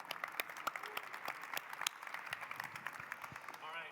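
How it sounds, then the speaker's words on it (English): Audience applause for a speaker at a cyber risk talk, a dense steady patter of many hands clapping throughout, moderately loud with a few whoops near the end. "Big round of applause for Rick here."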